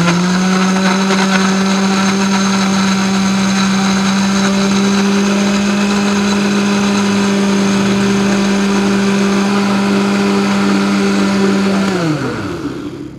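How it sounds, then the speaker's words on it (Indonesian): A kitchen blender grinding ingredients smooth, a loud, steady high-pitched motor whine running for about twelve seconds before winding down as it is switched off. "Kita blender."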